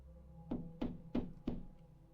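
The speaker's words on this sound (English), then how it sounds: "I hear you knocking" Four evenly spaced knocks on a door, hollow and fairly soft, about a third of a second apart, heard alone with no talk.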